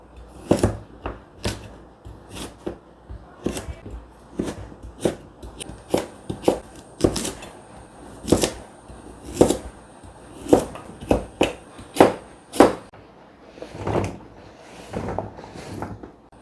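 Knife chopping sweet potatoes into pieces for frying on a kitchen board, a steady run of sharp, close taps at an uneven rhythm with short pauses, no talking.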